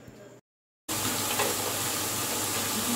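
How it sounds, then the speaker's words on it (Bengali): Grated potato dropped into hot refined oil bursts into a loud, dense, continuous sizzle close up, following a brief sound and a short silent gap. "জল চেপে রাখা আলুটা অল্প অল্প করে তেলের মধ্যে আমি দিয়ে দেব"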